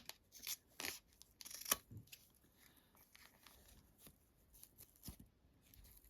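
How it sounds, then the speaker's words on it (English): Quiet, irregular snips and crunchy cuts of scissors trimming foam on a bag, close by, with soft rustling between the cuts. "we're going to grab some scissors, and I'm going to trim this upper portion"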